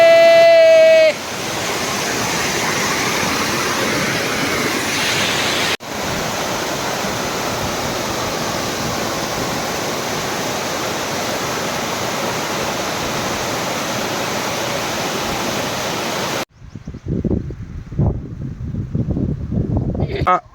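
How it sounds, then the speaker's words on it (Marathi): A monsoon waterfall in rural Konkan roars as a steady, loud, broadband rush that fills most of the clip, then cuts to quieter outdoor noise near the end. "पहा आमच्या इथला धबधबा लागलेला"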